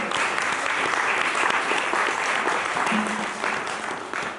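A church congregation applauds loudly and steadily during a sermon, a dense unbroken clatter of many hands with a few scattered voices mixed in.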